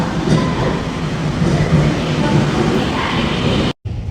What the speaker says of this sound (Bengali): এটা হচ্ছে মেট্রোর ভিতরের পরিবেশ।